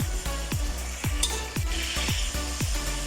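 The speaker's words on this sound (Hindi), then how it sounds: "इसको हमने 10 मिनट भूनना है ताकि इसका कलर वाइट अच्छी तरह हो जाए।" Chicken frying in a pot for biryani, a steady close sizzle under regular stirring scrapes about twice a second, continuous and without talk.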